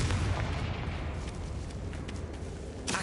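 A Confringo blasting curse erupts in Hogwarts Legacy, a loud, continuous crackling roar of fiery noise that holds steady for a few seconds and flares again at the end.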